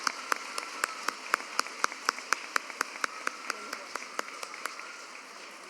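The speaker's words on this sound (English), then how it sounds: "Let's give a round of applause to our first grade one more time." At a lower school awards ceremony, a round of clapping for the first grade plays as a steady, evenly spaced run of sharp claps that are moderately faint and slowly trail off.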